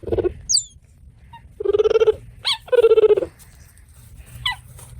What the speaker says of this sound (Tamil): இந்த சிவிங்கி புலியால கர்ஜிக்க முடியாது இதோட சத்தம் இந்த மாதிரி தான் இருக்கும்